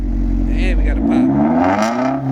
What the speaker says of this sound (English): Can we get a couple revs real quick?